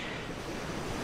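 Ocean waves wash steadily onto a shoreline, producing a constant, dense roar of surf with a windy hiss and no distinct breaks or pauses.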